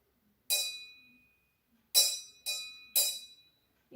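Glass cups partly filled with water struck as an instrument: four bright, ringing clinks, one alone then three in quick succession, each with a clear sustained pitch decaying over quiet.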